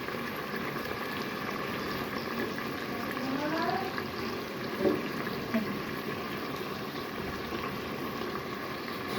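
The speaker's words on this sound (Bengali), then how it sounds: "এখন একটু একটু সিদ্ধ হোক, কিছুক্ষণ লাগবে সিদ্ধ হতে" Chickpeas simmering in a covered pot on the stove over lowered heat, a steady low bubbling hiss with a few faint pops, continuous and even throughout.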